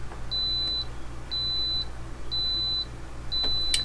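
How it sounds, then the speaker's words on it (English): A battery-system alarm on a Victron install with 400Ah Unowix batteries, beeping because AC power is not connected: four evenly spaced, sustained high-pitched beeps about a second apart over low electrical hum. "It was just an alarm because I haven't connected the AC power up"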